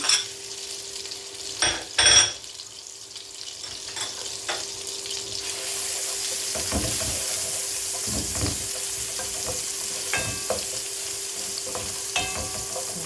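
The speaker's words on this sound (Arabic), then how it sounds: "وننزل على الزبدة دي بفصين توم كده" Garlic cloves sizzle in butter in a pan, a steady close frying hiss that builds and holds after some early clinks and stirring, with a low hum underneath.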